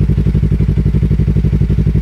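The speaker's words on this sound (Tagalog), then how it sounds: "Yan ang tunog niya in idle." Close and loud, a Yamaha R3 with a Yoshimura R77 exhaust and the silencer removed idles with a fast, even, throbbing pulse and a raspy low exhaust note.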